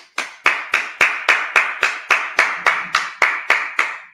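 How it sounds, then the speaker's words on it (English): Slow, evenly spaced hand claps at a Sabbath service, about thirteen sharp claps in steady rhythm, close and clear with no talk. "Clap it up."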